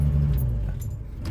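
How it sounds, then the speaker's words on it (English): Car keys jangle as they are pulled from a truck's ignition while its engine keeps idling with a steady low rumble underneath. "But then I can remove the key while it's running."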